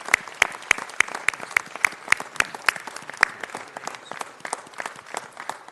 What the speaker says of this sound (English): Let's give John Sherman a big round of applause.